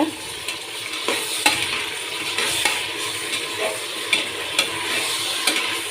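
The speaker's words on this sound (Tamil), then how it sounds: "இந்த வெங்காயம் தக்காளியெல்லாம் நல்லா வதங்குறதுக்கு உப்பு சேர்த்துக்கலாங்க. சேர்த்து நல்லா கலக்கி விடலாங்க." Onions and tomatoes with added salt sizzle loudly in a pan for chicken biryani, with repeated spatula scrapes and clinks against the metal at an irregular rhythm, close up and without talk.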